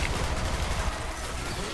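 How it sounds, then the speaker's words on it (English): Stormfront grenades spammed in the video game Borderlands 3, making a dense continuous roar of overlapping explosions and crackling blasts that stays loud throughout. "let me try the Stormfront spam here"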